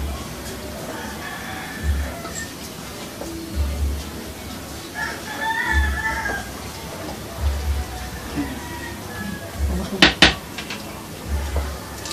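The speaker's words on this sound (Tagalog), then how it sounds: "napang hinahalo ngayon ni Lisa yung macaroni salad" Chicken macaroni salad being stirred in a bowl, with soft repeated clinks and scrapes of a utensil against the dish, low rhythmic knocks underneath and a brief sharper clatter near the end.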